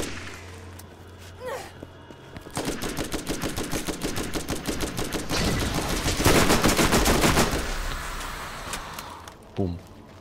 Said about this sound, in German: Also ich habe jetzt mit zwei Schüssen platt gemacht mit meiner Waffe.